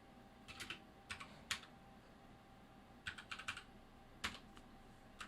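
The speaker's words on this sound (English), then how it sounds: "we type in the password cybersecurity" A password is typed on a computer keyboard in short bursts of light clicking keystrokes, close and fairly quiet, separated by brief pauses.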